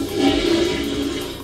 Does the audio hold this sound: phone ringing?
no